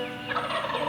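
A wild turkey gobbles close by, one rapid rattling call lasting about a second, loud and clear with no talk over it.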